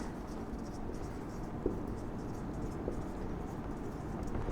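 Marker or chalk strokes scratching on a board in an electrochemistry lecture, a steady soft scraping texture that carries on throughout with no voice, plus a couple of faint taps.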